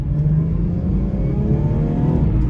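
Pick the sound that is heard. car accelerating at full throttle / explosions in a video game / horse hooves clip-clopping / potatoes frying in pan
car accelerating at full throttle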